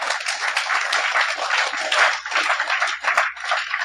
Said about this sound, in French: Vous avez applaudi ça.